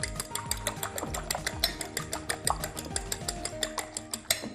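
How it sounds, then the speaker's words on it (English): Three eggs whisked in a bowl, a fast, steady rhythmic clatter of whisk against the bowl, close and alone with no talk. "Give them a nice whisk."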